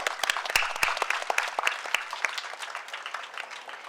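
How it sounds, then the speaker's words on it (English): An audience at a school function applauds to welcome the chief guest, sustained close clapping from many hands that fades gradually toward the end. "Please welcome ma'am with a huge round of applause."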